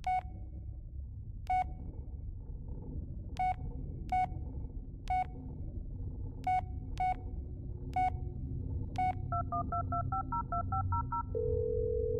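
A run of separate phone keypad tones, punched one at a time at an uneven pace over a low background hum, then a quick burst of rapid beeps and a steady tone as a voicemail line is reached.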